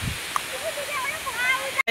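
The Valvali waterfall roars as a steady, broad rush of falling water, heard close up with a voice speaking faintly over it.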